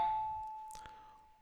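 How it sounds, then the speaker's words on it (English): Single electronic doorbell chime in the video game The Shell Part III, a clear sustained tone fading slowly over about a second and a half, with a faint breathy voice sound partway through. "When all of a sudden the doorbell rang"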